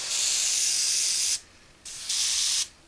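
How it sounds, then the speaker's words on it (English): An airbrush or spray can sprays paint onto the upper hull of a Hasegawa 1/450 scale model of the aircraft carrier Akagi in a garage, giving two steady hissing bursts separated by a short pause, close and loud. "I do the spraying and that lot in the garage because all the fumes giving off"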